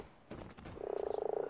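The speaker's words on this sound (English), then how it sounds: "Kill this fucking frog." A frog in the video game ARK gives a rapid, rhythmic croaking burst, close and moderately loud over a noisy game background, with no speech.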